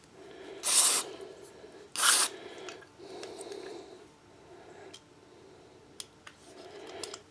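Two short, sharp bursts of aerosol spray hiss close by into holes on a chipper shredder carburetor, followed by quieter shuffling and a few light clicks.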